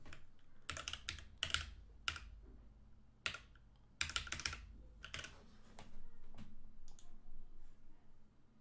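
Computer keyboard typing of a password: sharp clustered keystroke clicks in irregular bursts with short pauses, close and fairly quiet against a soft background hum.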